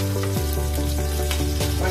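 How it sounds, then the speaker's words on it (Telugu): Brinjal pieces frying with salt in a pan give a loud, steady sizzle that runs unbroken throughout, with a low constant hum beneath it. "ఇప్పుడు నేను ఇప్పుడు వంకాయ ఫ్రై చేసుకుంటున్నానండి"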